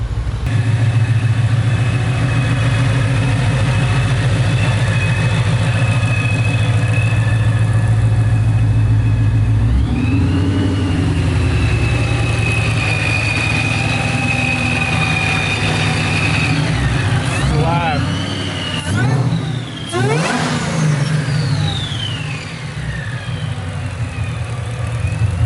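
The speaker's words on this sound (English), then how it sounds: "So let's go hear Dan revving the Mustang down there." A loud Mustang engine idles roughly close by, then revs up and down in several sharp bursts, the pitch rising and falling, with a voice briefly underneath.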